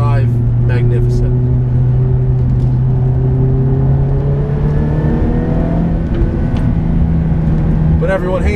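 A Ferrari F430 with a manual gearbox drives at speed, its engine droning loudly and steadily from inside the cabin, rising and falling in pitch with gear changes and revs.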